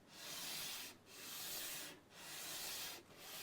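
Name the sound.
sanding an acoustic guitar part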